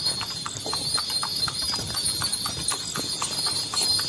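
Horse hooves clip-clop in a steady, quick rhythm, like a cart being pulled along, with a constant high whine in the background.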